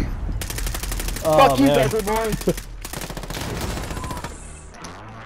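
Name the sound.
gunfire in the video game Warzone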